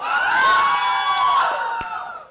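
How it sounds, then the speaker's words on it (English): A crowd at a CS:GO esports grand finals arena event cheers and whoops loudly for a team, a dense swell of high voices that rises, holds, then fades, with a sharp clap near the end. "Let's have a huge round of applause for Team Autobots."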